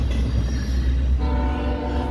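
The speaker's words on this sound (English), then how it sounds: "Pulling a westbound stacked train." A westbound stacked freight train hauled by Norfolk Southern locomotives 4306, 5626 and 6491 passes with a loud, steady rumble, and a horn tone comes in partway through and holds.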